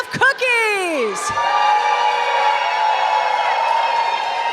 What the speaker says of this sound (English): There's a lot of cheering happening.